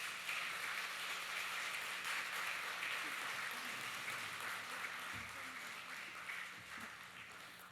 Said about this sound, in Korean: 우리 박수로 맞아주시기 바랍니다